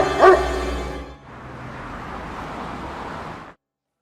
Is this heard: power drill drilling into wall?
no